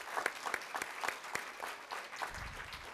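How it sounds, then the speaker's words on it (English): Applause from a conference audience honoring panelists at an evaluation event, a steady patter of moderate-sized claps throughout with no voices, a low rumble near the end. "please join me in a round of applause for the panelists"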